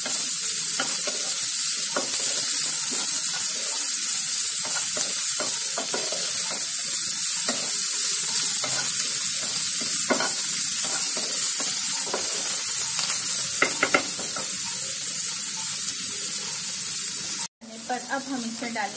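Onions and boiled potatoes fry in a pan while being stirred, a loud continuous sizzle broken by scraping strokes of the spoon, with a brief cut near the end.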